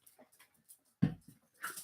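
A dog whimpers and yips softly indoors, giving a few short faint whines and one louder yelp.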